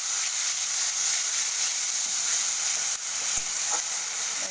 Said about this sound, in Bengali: দেখো এটাকে আমি কিছুক্ষণ কষিয়ে নেব।